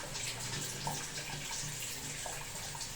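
Water running steadily from the tap of an instant electric water heater: a continuous close gushing, splashing flow with no breaks, the water coming out cold.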